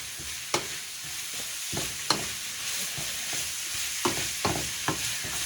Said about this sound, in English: Keep that stirring. You don't want it sitting on the bottom.